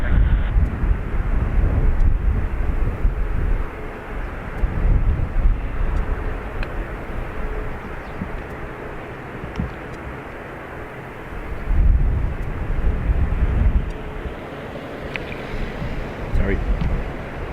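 An airplane taking off at Dublin Airport produces a deep, distant roar that swells and fades over several seconds, mixed with heavy wind buffeting the microphone outdoors.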